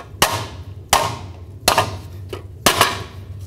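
Four sharp hammer bonks, roughly evenly spaced and ringing briefly, drive wheel studs into the rear backing plate of a 1999-2007 Ford Super Duty F-250, over a low steady hum.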